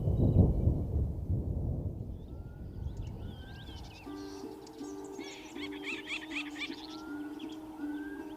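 Thunder rolls before rain in Tarangire, a low, rumbling peal lasting several seconds that fades into quieter outdoor ambience with faint birdcalls.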